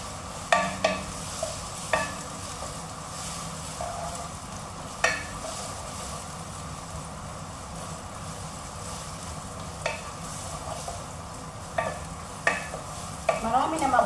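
Steady sizzling of onions frying with ginger in a pot for laing, with occasional clinks and scrapes of a spoon stirring, fairly close and continuous throughout.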